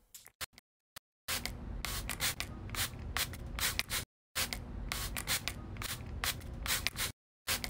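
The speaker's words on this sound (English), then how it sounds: "Wet the customer's hair with the spray bottle." Spray bottle misting a customer's hair in the Hairdresser Simulator video game, heard as sustained bursts of hissing, rustling spray that stop and start twice, close and fairly loud with no talking.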